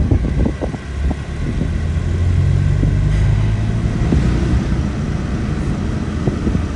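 KTM 390 Adventure X single-cylinder motorcycle riding along, a steady low engine drone with wind rumble and slight rise and fall in revs, fairly loud and close, no talking.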